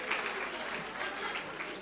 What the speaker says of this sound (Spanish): un aplauso para os que veñen, un aplauso para Isabel